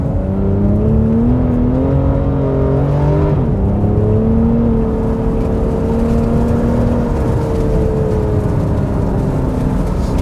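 A loud, close Porsche sports car engine, heard from inside the car on a track, roars steadily, its pitch stepping up and down with quick rev-matching throttle blips on downshifts, no voices present.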